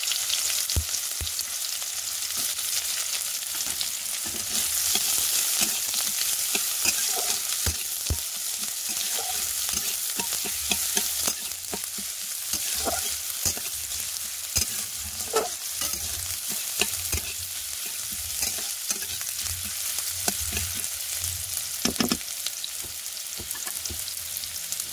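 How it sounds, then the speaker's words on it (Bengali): Chopped onions frying in hot oil in a heated kadai, a steady loud sizzle with frequent stirring clatters and scrapes running throughout, no talking. "তেল কড়াই দুটো একসঙ্গে গরম হয়ে গেছে, তার মধ্যে দিয়ে দেবো কুচিয়ে রাখা পেঁয়াজ"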